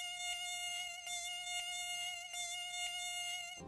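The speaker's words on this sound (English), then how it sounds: "We are also able to detect the sound of a mosquito from a distance" A mosquito's thin, high-pitched whine holds steady and continuous, loud and close, with no voices present.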